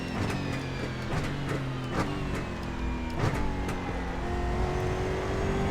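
A Toyota Corolla stock car in the iRacing sim game, its engine droning steadily with rising and falling pitch as it accelerates, with occasional sharp clicks or gear shifts layered over the continuous tone.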